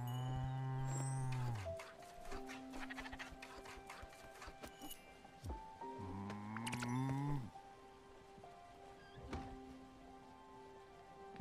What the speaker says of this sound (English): Milk the cow.